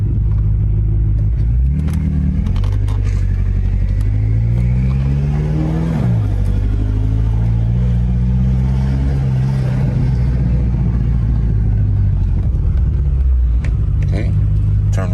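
A car drives along a road, its engine droning steadily with rising and falling revs for the whole stretch, close and fairly loud.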